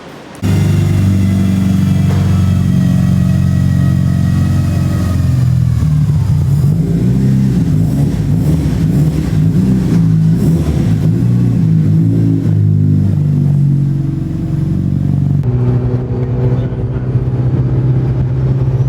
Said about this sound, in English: let's go ahead and test drive this baby